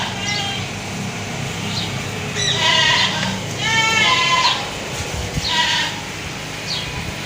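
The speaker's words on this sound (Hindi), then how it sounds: "ये बकरी है मेरे पास" Goats bleat at a livestock market, several short calls rising over a steady, noisy outdoor crowd and traffic background, moderately close.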